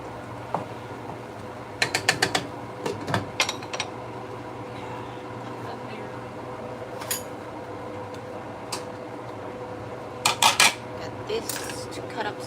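A utensil stirs ground turkey in a pan, giving scattered metallic clinks and scrapes in quick clusters over a steady low kitchen hum.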